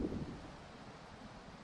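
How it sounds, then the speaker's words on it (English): Wind gusts buffet a windy campsite on the John Muir Trail in the Sierra Nevada, a low rumbling rush with rustling, uneven bursts and no talk. "It's a windy location."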